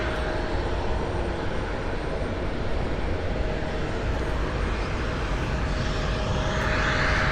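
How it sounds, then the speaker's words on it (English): Boeing 747 jet engines at Cleveland Hopkins airport, a loud continuous broadband roar that holds steady and swells slightly toward the end, heard outdoors with no talk. "pick up some more of the jet noise for you"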